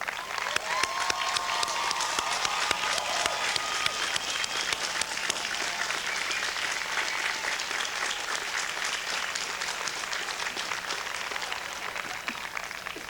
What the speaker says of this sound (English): Would the faculty and staff please rise and accept our applause?